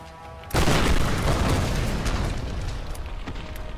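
Tomb Raider grenade launcher blast, a sudden loud boom that erupts close by and then rumbles and crackles as it slowly fades.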